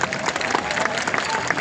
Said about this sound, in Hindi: आपने माँ के नाम पर ताली बजाई